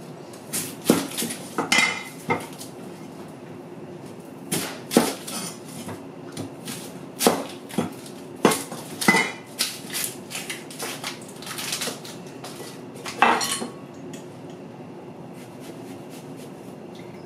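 An onion is cross-hatched with a cleaver on a board, producing sharp, irregular knocks and chops in short clusters, close and crisp, separated by quiet pauses.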